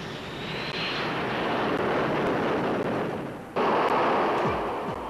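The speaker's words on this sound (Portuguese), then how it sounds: "A esquadrilha inclui pelo menos 4 KA-6D Intruders de abastecimento." A Grumman KA-6D Intruder tanker jet of the US Navy flies past with a continuous, loud roaring engine wash that swells, dips briefly, then surges again as it passes.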